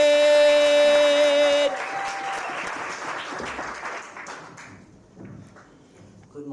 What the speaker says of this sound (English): A round of applause for Thailand.